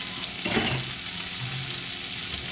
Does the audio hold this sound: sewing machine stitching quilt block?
no